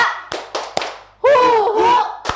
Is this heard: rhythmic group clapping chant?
yes